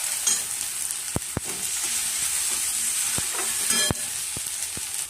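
Tomato and turmeric frying in a pan for sambar, a steady bright sizzle and hiss with occasional sharp clicks from stirring, close and continuous with no talking.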